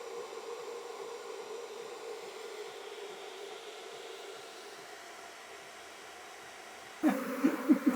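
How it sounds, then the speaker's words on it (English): A vacuum hums steadily while collecting Japanese honey bees at a traditional Japanese house, a continuous moderate whine that cuts off near the end, followed by a brief rattling, buzzing burst. "The remaining bees are being collected with the vacuum."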